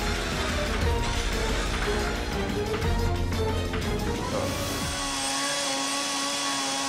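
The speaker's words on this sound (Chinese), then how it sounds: "这不是摩托车的声音， 而是电锯的声音" A chainsaw engine drones steadily in a horror adventure game, with a loud, continuous buzzing whine that shifts pitch midway, layered over dense game background sound.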